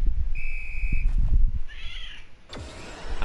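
A cat meow emote plays in the Fortnite video game, a short tonal electronic-sounding meow followed by a second wavering mew, set against low game background noise and clicks.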